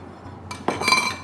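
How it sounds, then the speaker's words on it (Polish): A spoon stirs a cinnamon and sugar marinade in a bowl, giving a few brief clinking scrapes against the dish, close and fairly quiet. "Dalej mieszamy."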